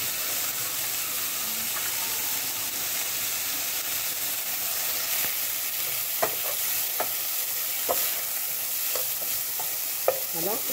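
Onions sizzle and fry in a pan for a chicken and olive tajine, a steady hiss with repeated scraping stirs of a utensil, close and fairly quiet, no voices.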